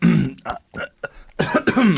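Several short throaty coughs and throat-clearing bursts, close and fairly loud, irregularly spaced with brief pauses between them.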